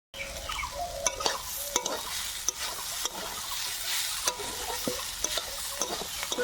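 Frying in a pan with a mustard seed tempering: a continuous sizzle broken by frequent sharp clinks and scrapes of a utensil against the metal, close and moderately loud.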